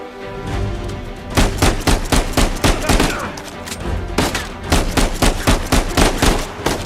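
Gunfire in the video game Uncharted 4: loud, dense bursts of rapid shots in two heavy volleys with a short lull between, close and continuous.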